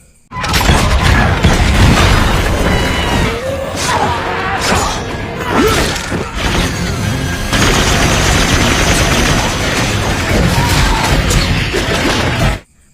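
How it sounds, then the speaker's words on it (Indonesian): Relentless machine gun fire rakes across witches in an action film fight, with loud overlapping bursts, booms and crashing debris forming a dense, nearly continuous barrage that cuts off abruptly at the end. "Mina menembak para penyihir dengan senjata mesin"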